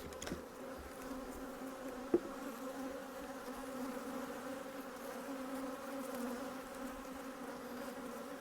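Honeybees from an open hive during an inspection drone in a steady, moderately close buzz that persists throughout, with one sharp tap partway through.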